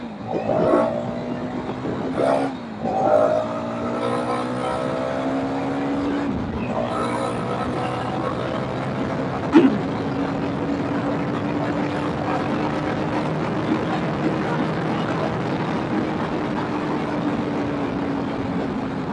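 A Hero Karizma XMR 210 motorcycle launches from first gear on a highway, its engine note climbing in pitch through sharp gear changes, then settling into a steady drone under heavy wind rush.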